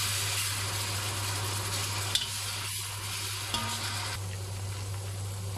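Beef frying in a pan while being stirred, with a soft even sizzle over a low steady hum and a couple of isolated scrapes of the utensil.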